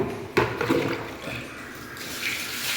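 Water splashes and pours across a floor being washed by hand indoors, a sharp splash near the start followed by a steady running wash that continues close by.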